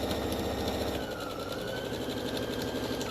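A sewing machine stitches a straight line along a foldable tote bag, its fast motor whirring in a steady, continuous run close by, with no talking.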